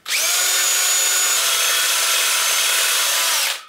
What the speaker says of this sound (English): Okay, so I sanded down the inside with the wire wheel.